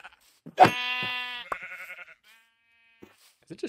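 A Minecraft sheep lets out a clear, drawn-out bleat followed by a shorter wavering one, close and distinct against quiet, with brief bits of a person talking around it.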